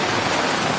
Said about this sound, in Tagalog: Rumagasa ang baha sa pababang bahaging yan ng Barangay Pico sa La Trinidad, Benguet.